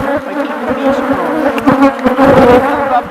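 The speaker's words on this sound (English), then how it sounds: "Did you get some footage of the bees going after the camera?" Honeybees swarm close around a hive, a dense, loud buzzing drone with individual wingbeats flaring in and out as bees dart near.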